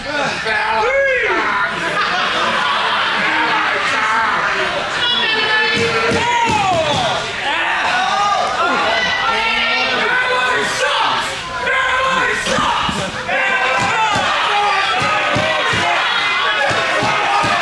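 A packed capacity crowd at a live professional wrestling show yells, jeers and bellows at a wrestler, a loud, continuous wall of many voices with rising shouts and chants throughout.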